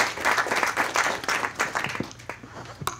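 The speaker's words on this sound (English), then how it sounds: "so I'll lead the applause for Tom Carper" Audience at a clean-air roundtable event bursts into applause, dense clapping from a roomful of people at close range that thins and trails off toward the end.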